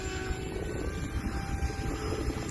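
A Hobbyzone Aeroscout S radio-controlled airplane flies overhead with a steady, droning propeller buzz that holds an even level throughout, with no talk.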